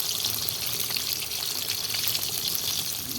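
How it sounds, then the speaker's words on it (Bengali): Potato pieces fry in a generous amount of hot oil, giving a steady, dense sizzling hiss that stays close and even from start to finish, with no talking. "আলুটা আমি এমনভাবে ভাজবো যাতে তেলের মধ্যেই সেদ্ধ হয়ে যায়"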